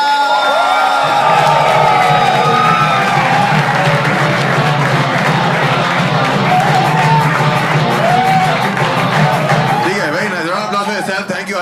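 A studio audience at a comedy show cheers and applauds loudly, with whoops and crowd noise layered over steady clapping and a voice shouting through the din.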